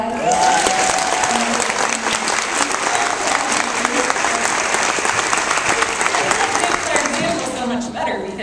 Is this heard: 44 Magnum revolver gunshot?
no